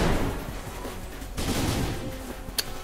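Weapons firing in the Pirate Galaxy space game, a dense burst of blasts and impacts at the start followed by a few further sharp shots, fairly loud and close.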